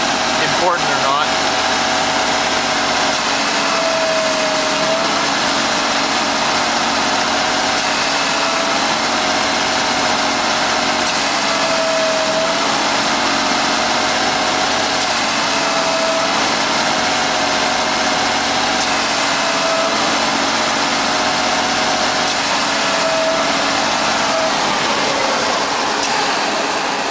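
A car engine idles steadily throughout an air-conditioning refrigerant recharge, a constant loud drone with a faint whining tone layered on top and no change in pitch or level.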